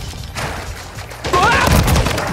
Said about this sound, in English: Okay, someone's shooting at me.